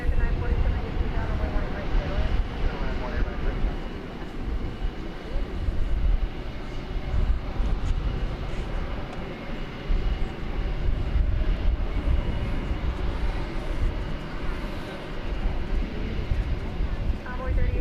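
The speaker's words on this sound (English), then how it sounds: "This aircraft, once again, will be off to home base in Luxembourg." Airliner at DFW Airport, Flight 80 bound for Luxembourg, rumbling continuously as a broad low roar, with steady distant engine noise throughout and no speech.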